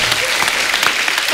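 Studio audience at a Kapil comedy show claps in a dense, loud burst of applause, a continuous wash of many hands close by with no gaps.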